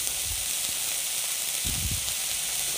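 Onion frying in hot oil for an Odia manja chop dish, giving a steady, bright sizzle and hiss throughout, with a few soft low bumps from the pan.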